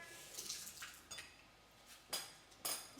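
A spoon mixing pholourie batter in a bowl, with faint wet scraping and soft clinks of metal on the bowl's side, plus two sharper knocks near the end, no talk.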